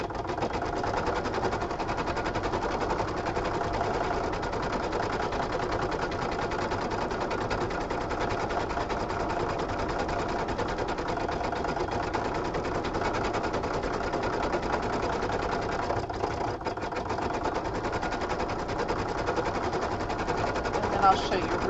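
Embroidery machine stitching eyelets on a Valentine card in the hoop, a continuous rapid mechanical whirring and tapping that runs steadily and close.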